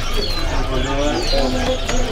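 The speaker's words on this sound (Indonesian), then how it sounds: "Untuk penampilan burung cipow untuk stok juga aman." Cipow birds at a crowded bird market give short, high chirps and whistles over a dense background of talk and chatter.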